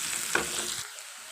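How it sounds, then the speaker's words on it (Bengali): Onion frying in mustard oil for a prawn gravy, a close steady sizzle with a stirring scrape that fades and thins near the end, no voices. "পেঁয়াজটাকে হালকা ব্রাউন ভেজে নেব।"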